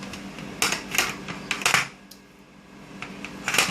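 Country style pork ribs cut in half with sharp knife strikes and clacks on a cutting board, several distinct chops in bursts, close and moderately loud with no talking.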